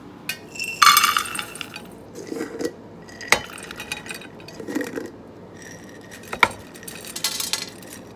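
Nuts and seeds such as pumpkin seeds, cashews and pistachios clatter into a one-cup measuring cup in several rattling pours and clinks, close by and separated by short pauses, with no talking.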